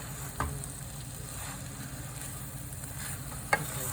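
Green peppers, onions and red peppers sizzle faintly and steadily in a pan while being stirred, with a soft continuous crackle and two brief clatters of the utensil.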